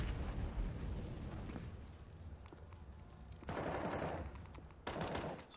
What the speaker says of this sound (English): The nades starting to find their way onto A site.